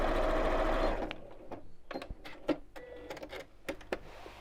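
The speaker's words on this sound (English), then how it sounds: "carry on sewing." A sewing machine stitches a scallop-top fabric gift bag, whirring loudly and close for about a second before stopping, followed by a few sharp handling clicks and taps in the quiet.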